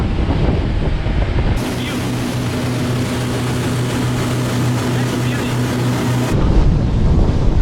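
A motorboat engine drones steadily at about 42 miles an hour, carrying eight people, with heavy wind rushing over the microphone, loud and continuous throughout.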